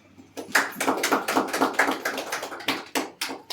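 Clapping from a church congregation at a Sunday service, close and fairly loud, with a quick run of slightly uneven claps lasting a few seconds.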